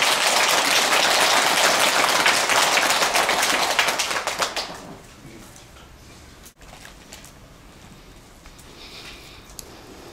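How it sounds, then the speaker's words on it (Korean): Dense audience applause at a Buddhist dharma talk fills the room loudly for several seconds, then fades away into quiet room tone. "고마우면 박수도 치는데 박수."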